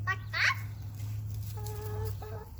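Chickens cluck faintly in a couple of short calls, followed by quieter drawn-out clucks over a steady low background hum.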